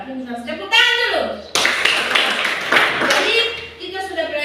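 Children in a classroom break into a short, lively round of clapping that starts abruptly after a teacher's voice, with speech heard before and around the applause.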